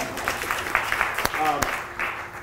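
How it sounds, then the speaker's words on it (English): Scattered hand claps at a comics forum keynote, a few sharp close claps mixed in with ongoing talk and a soft crowd murmur. "I'm clapping."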